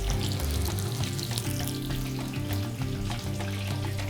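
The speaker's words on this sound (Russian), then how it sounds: "Морковку я тоже обжарю, чтобы запахло." Carrots frying in a pan for Uzbek dimlama with duck, a dense continuous sizzle with crackling pops and occasional stirring, close and steady with no talk.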